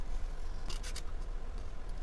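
Scissors cutting a folded book page, a few quick close snips in a short cluster, crisp and moderately loud over a low background hum.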